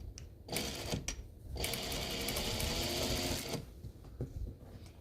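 A sewing machine stitches quilt binding nearby in short bursts of fast, even mechanical rattling, separated by brief pauses and quieter handling sounds.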